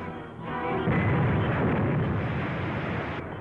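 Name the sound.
three-inch artillery shell fire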